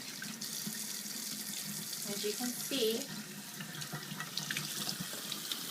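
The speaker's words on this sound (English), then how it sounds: "So now we're going to rinse it in hot water." Tap running hot water to rinse clothing, a steady hissing stream into a sink, faint and even throughout, with a brief splashing change midway and a voice talking briefly over it.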